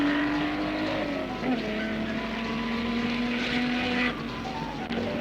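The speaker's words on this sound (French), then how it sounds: "Cependant qu'en bas, au virage de Ted, le 8 et le 40, Taylor et McLaren se livrent toujours leur poursuite." Formula 2 race cars from 1959 at the Charade circuit, their engines droning loud and steady with a shifting pitch as they chase each other through a bend, with an announcer talking over the noise.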